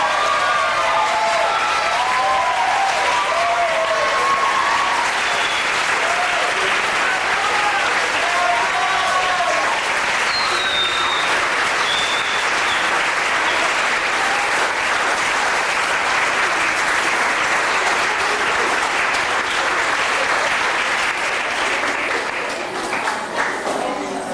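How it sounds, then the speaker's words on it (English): Sustained applause from a large audience at a USA cheer staff training event, a dense, loud wash of clapping with some cheering that carries steadily for over twenty seconds before tapering slightly at the end. "Give it up, everybody, for Maya Lee."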